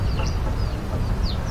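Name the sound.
chickens clucking near the shooting target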